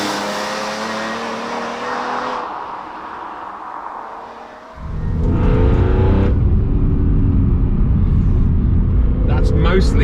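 BMW E46 M3 CSL inline-six under hard acceleration, its induction roar rising with stepped harmonic climbs, dropping off, then surging back loud and full, with a person speaking over it.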